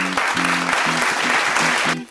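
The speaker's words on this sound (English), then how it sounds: "So give them a warm round of applause," A studio audience on a hummus cooking show set gives a loud round of applause, continuous dense clapping with tonal music or cheering running underneath, dropping away at the very end.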